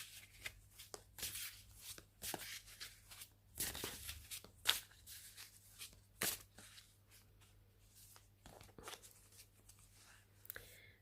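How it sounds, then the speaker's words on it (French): A deck of oracle cards is shuffled by hand, with soft riffling bursts and quick papery slaps that come in irregular clusters, close and quiet. "je vais tirer une carte de l'oracle de Stéphanie"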